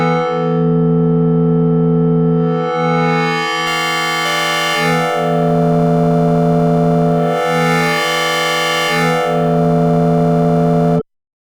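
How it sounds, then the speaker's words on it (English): A loud, sustained wavefolded synthesizer tone, a sine wave turned harsh, metallic and folded in timbre, its brightness swelling and receding in slow waves before cutting off abruptly. "This transforms a simple sine wave into a metallic, aggressive timbre."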